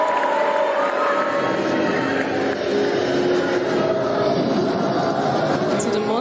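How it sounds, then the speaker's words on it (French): A pageant audience cheers loudly for Miss Cameroon on stage, a dense, steady roar of crowd noise and shouting that holds without a break. "On l'acclame bien fort."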